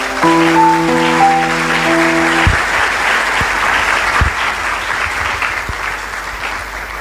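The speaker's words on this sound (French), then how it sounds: "Acclamons très fort pour le Seigneur." A church congregation claps loudly and steadily in praise of the Lord, the applause starting over a held organ or keyboard chord that soon cuts out, leaving bright clapping alone with a few sharper claps standing out.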